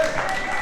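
A wrestling crowd at a live LWA main event cheers and applauds in a continuous, steady roar, with a commentator's voice over it.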